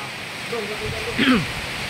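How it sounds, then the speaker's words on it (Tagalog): Heavy rain pours steadily outside during a typhoon, a dense broadband wash close by, with a voice briefly speaking over it. "Grabe ang kusog ang uwan guys."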